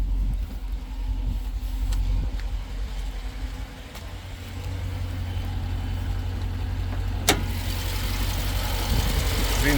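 A 6.4-litre Hemi V8 engine in a 2021 Jeep Grand Cherokee SRT idles with a steady, deep low rumble, close by and continuous, with a faint brief click partway through.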